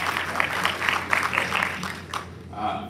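Applause from an audience at a school senior awards ceremony, a short burst of moderate clapping that fades out after about two seconds, followed by a speaking voice.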